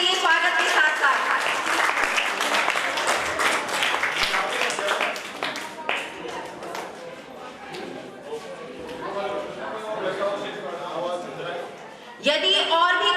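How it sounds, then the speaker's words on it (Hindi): Audience clapping at a school retirement ceremony, a dense sustained wash of applause over a hall voice, dipping briefly and swelling again near the end. "तालियां बजती रहनी चाहिए स्वागत के साथ साथ।"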